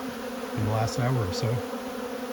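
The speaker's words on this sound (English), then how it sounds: "There's a lot of bees here." Honey bees buzz close by in a steady hum with a few louder passes, while someone speaks briefly over them.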